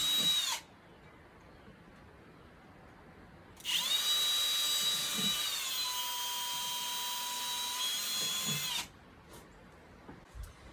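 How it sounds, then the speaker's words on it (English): A power drill boring holes in the bottom of a box during a well house repair, one continuous high whining run of about five seconds that shifts pitch slightly midway, with a brief faint whir before it and quiet stretches around it. "I'm just going to drill holes in the bottom of this."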